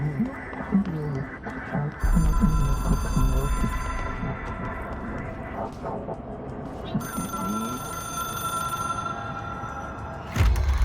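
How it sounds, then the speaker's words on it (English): An old-fashioned telephone bell rings in the video game Control, two long trilling rings separated by a pause over a low ambient rumble, with a sharp thud near the end. "It is a phone. It's an object of power. It doesn't connect to any typical network."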